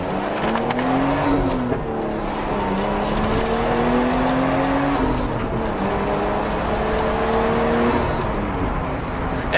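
Nissan Skyline R33 rear-wheel-drive engine revs up and down through the RPM range several times in a row, loud and close, its rising and falling whine steady with no talk.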